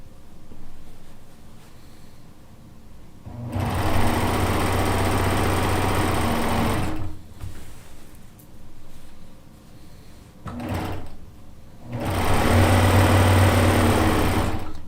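A sewing machine stay stitches around the edge of a quilt top in two sustained, fast-whirring bursts with a short stutter between them, separated by quiet pauses.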